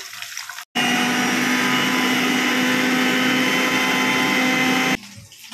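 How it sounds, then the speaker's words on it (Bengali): A kitchen mixer grinder grinds ginger and green chillies in a loud, steady, close whirring burst of about four seconds that starts and stops abruptly. "আদা কাঁচা লঙ্কাটা মিক্সিতেই বাটবো"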